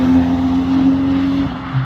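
A race car, chased by a Mazda Miata at a track night at Shannonville, roars past loudly and close, a brief sustained engine tone that drops off abruptly.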